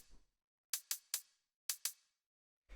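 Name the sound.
closed hi-hat sample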